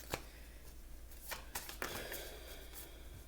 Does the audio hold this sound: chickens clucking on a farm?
no